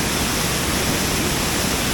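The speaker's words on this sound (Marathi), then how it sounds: "इथला जितवणे कुंभारवाडी येथील धबधबा खरोखर खूप सुंदर आहे" The Jitavane Kumbharwadi waterfall near Rajapur roars in a dense, unbroken rush of water, loud and close with no pauses.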